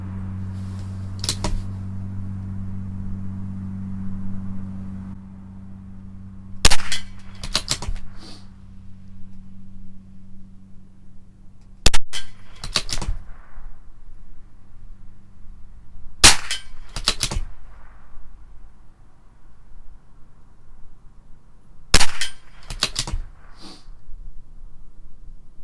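Rifle shots from a CZ 457 LRP with an IBI barrel firing Norma Tac-22 ammunition at 50 yards: about ten sharp cracks fired in pairs and triples at an unhurried pace, loud and close over a low idling hum.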